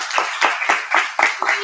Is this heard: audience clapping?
yes